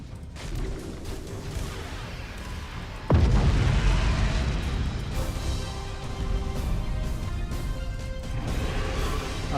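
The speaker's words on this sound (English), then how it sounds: "Oh, that's the Nova cannon." A Nova cannon fires in the space strategy game Battlefleet Gothic Armada 2: a single heavy boom lands suddenly, then a long, loud, rumbling roar lingers over a steady mechanical hum.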